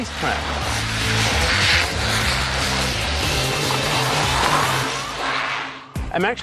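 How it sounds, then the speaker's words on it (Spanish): Remote-controlled cars race around a track with a loud, dense buzz of motors and tire squeal, people talking over it, and a sharp clatter near the end. "utilizando coches teledirigidos en una pista de carreras"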